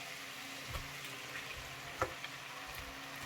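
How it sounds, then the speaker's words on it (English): Noodles fry in a pan for a Chinese stir fry, a faint, steady hiss of sizzling with a few soft knocks and one sharper clink near the middle, no voices. "I will be adding the noodles now"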